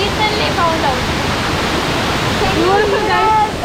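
Kothapally waterfall roars as a loud, steady broadband rush, close by, with voices talking faintly over the constant cascade.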